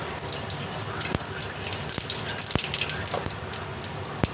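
Whole cumin seeds sizzle and crackle in hot oil as a tempering for dhokar dalna, a bright steady fry with a few sharp pops scattered throughout.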